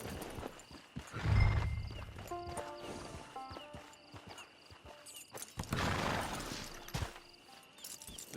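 A horse in the video game Red Dead Online clip-clops nearby and snorts or whinnies loudly, with hoof steps continuing around faint voices in the background.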